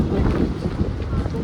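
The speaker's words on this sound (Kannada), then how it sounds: "ತುಂಬ ಗಾಳಿ ಸ್ಟಾರ್ಟ್ ಆಯಿತು." Strong wind buffets the microphone in a steady, loud, rumbling roar that persists throughout without a break.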